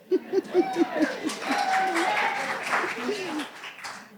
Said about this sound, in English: I don't think we need all this clapping.